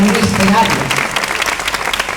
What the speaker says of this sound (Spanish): Un aplauso para todos los transformistas y la gente que se deja la piel en